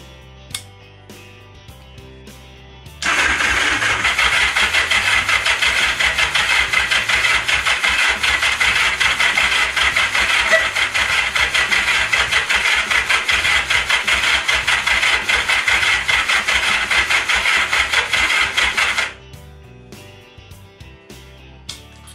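A Kawasaki Zephyr 750 motorcycle engine cranks steadily for about sixteen seconds without starting, a loud continuous whirring churn that cuts off abruptly, with quiet pauses before and after.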